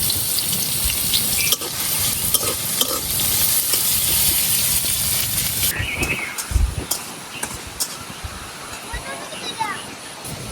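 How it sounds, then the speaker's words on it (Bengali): Chopped garlic and onion fry in hot oil with a steady, dense sizzle and occasional stirring scrapes, loud and close; a person talks over it throughout and the hiss settles somewhat partway through. "তো রসুন আর পেঁয়াজ গুলো আমি আগে তেলের মধ্যে দিলাম।"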